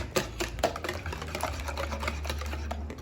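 Melted butter being mixed into a bread pudding mixture in a bowl, giving a steady run of quick, rhythmic clicks and scrapes over a low background hum, close and moderately loud with no talking.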